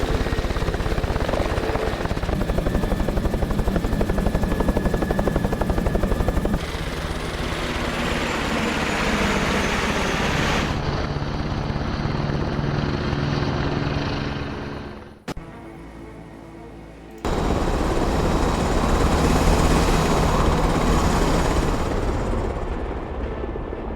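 Military helicopters in the Broken Arrow strategy game roar loudly and continuously with a dense rotor and engine drone, shifting in intensity, briefly cutting out near the end before resuming.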